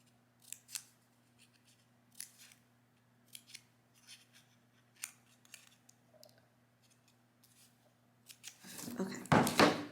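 Scissors snip through paper flower shapes for a pop-up flower craft, a series of crisp separate cuts spaced about a second apart over a low steady hum, ending in louder rustling paper handling up close.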